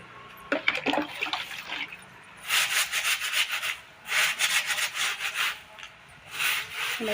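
A broom sweeping the floor of a home courtyard wet with turmeric water: several bursts of scratchy brushing strokes, close and fairly clear, with no voices.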